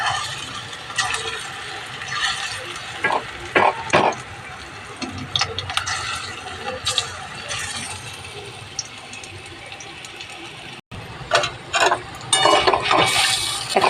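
Hot oil sizzles steadily around pakoras frying in a pan, broken by clinks and scrapes of a utensil against the pan, close by.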